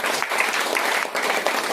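Applause at a product training event: a crowd claps in a steady, dense wash of many hands.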